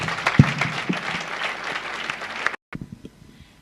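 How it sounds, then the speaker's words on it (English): Applause from an audience at an awards gala ceremony, steady clapping for a few seconds that cuts off abruptly, followed by a brief faint tail. "Can we please applaud for Mrs. Ndunkula again?"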